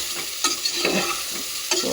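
Mango pieces stirred in a pan for mango murabba, with soft, wet scraping strokes at an unhurried rhythm over a gentle, constant sizzle, close and fairly quiet.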